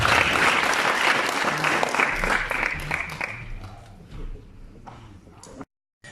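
Audience applause for a co-presenter at a business presentation, dense clapping from a crowd, loud at first and gradually thinning out before cutting off abruptly.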